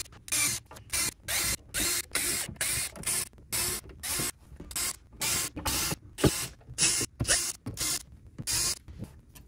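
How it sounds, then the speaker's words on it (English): A power driver backs out the screws holding the top cover of a 36V RoyPow LiFePO4 golf cart battery, a series of short whirring bursts in quick, uneven rhythm, close and clear with no talking. "First thing I'm going to do is remove all these screws that hold the top cover on."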